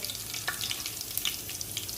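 A spoonful of cumin seeds crackles in heated oil as tempering for Udupi-style sambar. The brief, fairly quiet sizzle has fine popping specks and no voices.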